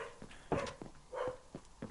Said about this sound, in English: I'm fucking tired of these dogs barking.